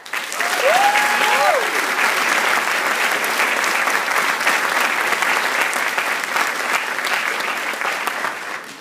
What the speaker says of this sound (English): please give them one more round of applause